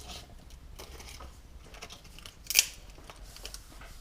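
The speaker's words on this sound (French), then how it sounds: "je coupe ma gélatine alimentaire que je viens appliquer en appuyant bien fort" Scissors cut through a sheet of food gelatin, heard as quiet scattered clicks and rustles with one sharper, louder snip partway through, close by and faint overall.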